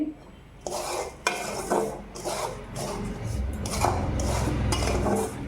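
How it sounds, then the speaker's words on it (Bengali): Semolina fried and stirred in a pan for Bengali sujir manohara: repeated scraping strokes of a spoon against metal in uneven bursts over a low, steady sizzle, close and moderately loud with no voices. "এই সুজিটা এখন ভেজে একটু হিট করে দিই"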